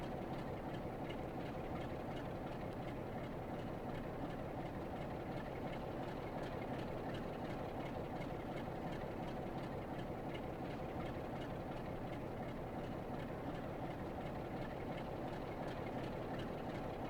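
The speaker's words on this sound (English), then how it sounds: "Right, here it comes. I see a train coming towards us." In the Train Sim World 5 game on the East Coast Main Line, a train passes with a steady, dense rumbling roar that holds constant throughout, with no talk.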